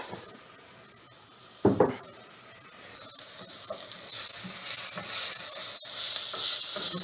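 Onions and garlic sizzle in a hot pan, a soft steady frying hiss that grows brighter and louder partway through, with a sharp clatter near the start, heard close with no talking.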